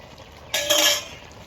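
Metal pan and utensil clatter from lifting cooked pumpkin greens with prawns off the stove in a home kitchen: a sudden scrape and clink that swells for about half a second, then fades, close and moderately loud with no talking.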